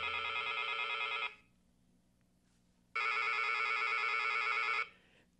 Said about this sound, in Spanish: El timbre del teléfono lo saca de sus alegres pensamientos.